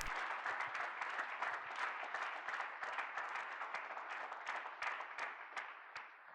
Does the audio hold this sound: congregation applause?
yes